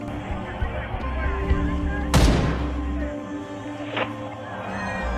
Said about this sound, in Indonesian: tiba-tiba Yuki menembak sebuah peluru dari senjatanya